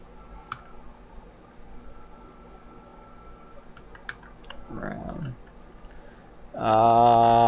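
Sparse computer keyboard clicks, a few isolated taps and short bursts of key presses, faint and close, with a voice talking over the end.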